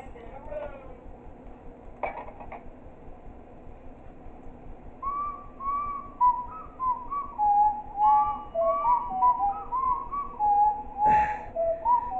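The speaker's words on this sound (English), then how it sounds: "Why does he have to whistle multiple times? Like, he's literally whistling simultaneously." Whistling by the principal in the video game Baldi's School House: a string of short, high melodic whistle notes repeating steadily over a low hum and game noise, fairly clear in the second half.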